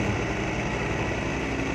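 A 2020-model New Holland Dabung 85 tractor engine runs a thresher, giving a steady, loud, continuous mechanical drone with a dense roar and no breaks.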